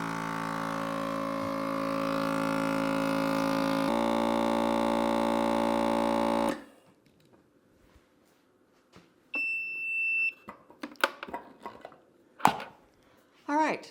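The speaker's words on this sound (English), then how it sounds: "this is now vacuum sealed" A home vacuum sealer machine runs with a steady droning hum for several seconds while sealing a bag of wet food, then cuts off, followed by scattered clicks and handling knocks, close by.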